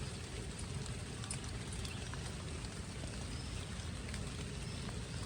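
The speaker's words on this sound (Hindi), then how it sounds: "ये तो शदीद बारिश हो गई है।" Heavy rain falls on plants outdoors as a steady, soft, even hiss with faint scattered drips, with no voices.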